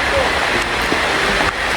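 Steady broadband hiss of heavy rain pouring down in a forest, continuous and close, with faint voices now and then beneath the downpour.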